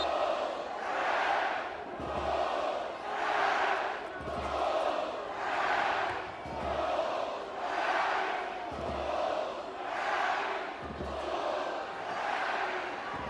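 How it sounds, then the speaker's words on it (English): A college soccer crowd at an NCAA tournament match between the Washington Huskies and NC State roars steadily in a stadium, with rhythmic swelling chants rising and falling at an even pace. Some dull thumps sit underneath. "This crowd has not relented, trying to once again get the boys in white going."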